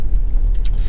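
Honda CR-V 1.6 i-DTEC SR diesel with 67,033 miles on a road test, giving a steady low rumble of engine and road noise from inside the cabin, with no talk.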